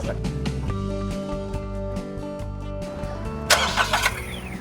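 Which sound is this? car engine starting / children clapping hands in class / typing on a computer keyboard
car engine starting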